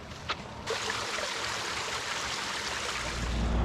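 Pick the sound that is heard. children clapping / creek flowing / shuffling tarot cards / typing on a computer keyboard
creek flowing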